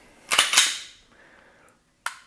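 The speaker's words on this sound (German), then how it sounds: "Jetzt bricht mein Schuss." Trigger breaking on an HK SFP9 Match pistol in 9mm Luger: two quick, sharp mechanical snaps close to the microphone, a lingering faint ring, then one more crisp click after a pause.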